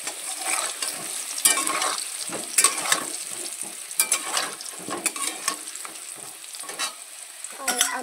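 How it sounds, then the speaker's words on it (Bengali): Spices and chopped onion fry in a pan with a continuous sizzle, broken by repeated scraping stirs and clicks of a utensil, heard up close without talk. "মশলাগুলো পেঁয়াজ কুচি দিয়ে দেবো ভাজতে।"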